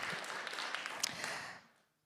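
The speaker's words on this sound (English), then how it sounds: "You'll have to clap for me." Audience applause from a live storytelling crowd, a broad wash of many hands clapping together for about a second and a half, then fading out quickly into silence.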